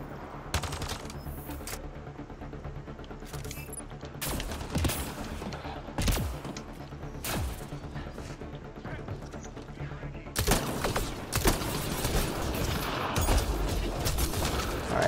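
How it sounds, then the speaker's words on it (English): Gunfire in the game Mass Effect: Andromeda, with sharp loud shots and short bursts scattered over fifteen seconds, some single cracks and some rapid clusters, ringing above a low game ambience. "Stop shooting me."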